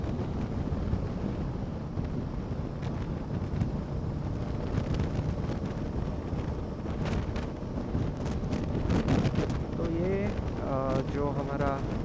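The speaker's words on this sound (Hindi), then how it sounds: "इतना ज़ोर से हवा चलता है यहाँ पे" Strong wind gusts roar steadily across a windmill area on a Royal Enfield Meteor 350 ride toward Bangalore, a loud continuous rumble with buffeting on the microphone throughout.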